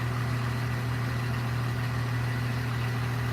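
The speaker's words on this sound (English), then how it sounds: "You guys hear a lot of that diesel truck right now?" Diesel truck engine idling nearby, a steady low throbbing drone with a constant hum that fills the whole stretch, with no voices over it.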